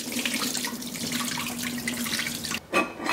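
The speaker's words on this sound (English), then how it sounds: "So dal is washed, so we're going to drain the water." Rinse water drains and splashes from washed moong dal in a kitchen sink, a continuous close hissing pour that cuts off briefly near the end, followed by a short final splash.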